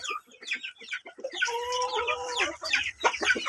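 A battlecock rooster on a free-range heritage backyard chicken farm clucks in quick, choppy bursts, close and fairly loud, with a longer drawn-out call in the middle.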